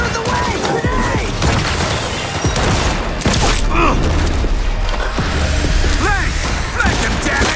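An explosion in the Cyberpunk 2077 video game lands amid dense combat: loud booms and rapid gunfire fill the whole stretch, with shouting voices mixed in throughout.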